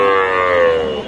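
A young bull calf lets out one sustained, loud moo at a rural cattle market, heard up close with no one talking.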